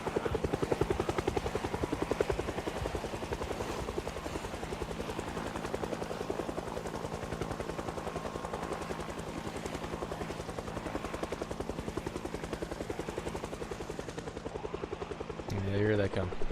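A helicopter in the video game Project Zomboid drones overhead with a steady, pulsing rotor chop that holds throughout. A short burst of other game noise sounds near the end.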